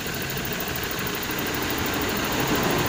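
A car engine idles at 775 RPM with a steady, even mechanical drone and a faint rattling hum, loud and continuous throughout, with no talk.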